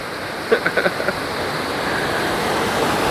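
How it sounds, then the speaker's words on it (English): Steady broadband rush of falling water at Mill Ruins Park in downtown Minneapolis, beside the Mississippi, constant and fairly loud, with a brief burst of light clicks or taps early on. "If you love waterfalls, this is definitely a place to check out."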